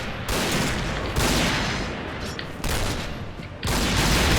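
L115A1 sniper rifle shots in a video game land as four loud, heavy blasts spaced roughly a second apart, each with a long booming tail and no talking.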